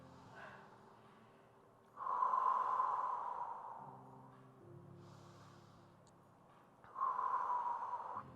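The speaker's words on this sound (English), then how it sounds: "breathing into the nose" Slow, deep breaths drawn through the nose during a guided breathing exercise swell up twice, each long inhale rising clearly over soft, steady background music.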